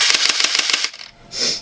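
An electric airsoft Uzi fires a rapid burst of sharp, snappy BB shots in quick succession for about a second, followed by a brief pause and a short mechanical whir.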